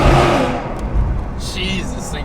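A car's exhaust barks as the engine revs hard up close, then settles into a lower idling rumble while voices talk nearby.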